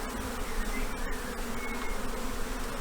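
A honeybee swarm buzzes densely and continuously during a hive transfer, a close, steady, many-winged hum with no speech.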